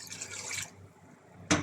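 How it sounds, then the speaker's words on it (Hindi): Two glasses of water poured into a pot of aloo gosht with potatoes, a steady splashing rush for over half a second, then quiet before a brief sharp clatter near the end. "अब मैं इसमें ऐड करूँगी 2 गिलास पानी"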